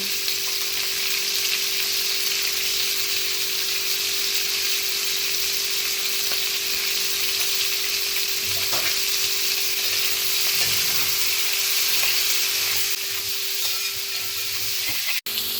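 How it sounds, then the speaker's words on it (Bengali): Onion, capsicum and tomato frying in a pan for chili chicken, a loud, unbroken hiss and sizzle that holds steady throughout, with a faint steady hum underneath and a sharp knock near the end. "আমার এখানে পেঁয়াজ ক্যাপসিকাম টমেটো ভাজা হয়ে গেছে"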